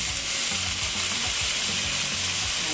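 Soy sauce hits sizzling lomo saltado in a hot pan, a steady, dense frying hiss with faint stirring scrapes underneath, loud and continuous throughout with no talking.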